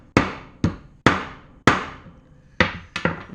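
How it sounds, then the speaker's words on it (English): Hammer blows drive a rivet out of a small mini grease gun during repair, six sharp metallic strikes at uneven intervals, close and clear with ringing decay and no talk. "what I'm going to do is drive the rivet from the center, which will unfurl some of that lip that's rolled over"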